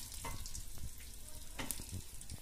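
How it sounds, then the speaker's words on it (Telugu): A quiet tempering of spices sizzles in a pan for fenugreek rasam, a soft, continuous crackle with a few small pops and no voices. "ఇక మనం తాలింపు వేసుకుని ఆ తాలింపుని మెంతుల పులుసులో వేసుకుని"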